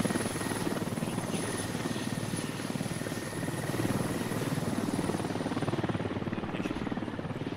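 Helicopter in the video game Squad, a steady loud rotor drone and turbine whine filling the whole stretch without a break, no talking over it.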